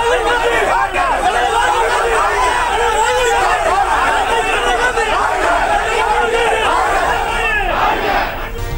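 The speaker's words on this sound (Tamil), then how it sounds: "மணிப்பூர் விவகாரம் தொடர்பாக பேசியதால் பாஜகவினர் கோஷம்." Crowd of BJP members chanting slogans together at a railway station redevelopment project opening ceremony in Tiruvallur, a loud, sustained mass of shouting voices throughout.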